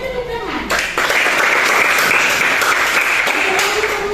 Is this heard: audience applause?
yes